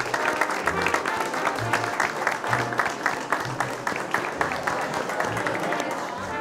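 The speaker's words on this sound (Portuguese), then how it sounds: "Um aplauso, por favor." A crowd applauds the winner of the first golf tournament at Vidago Palace, with steady, dense clapping from many people lasting throughout at an even level.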